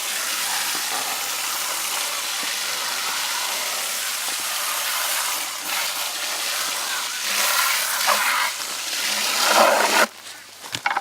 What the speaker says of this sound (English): washing out the 2 buckets, pretty simple